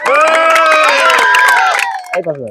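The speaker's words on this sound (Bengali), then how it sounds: "সবাই হাততালি দাও, হাততালি দাও" At a quiz event, an audience bursts into loud, close cheering with high shouted voices, plus a little clapping, fading out near the end.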